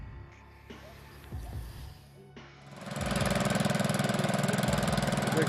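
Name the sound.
Gravely tractor engine humming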